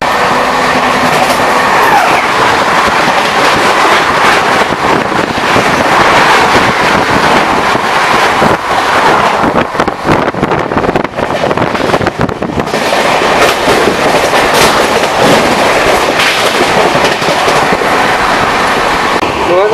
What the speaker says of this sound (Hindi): जो डिब्रूगढ़ राजधानी है वो किसी भी वक्त यहाँ से क्रॉस होने वाली है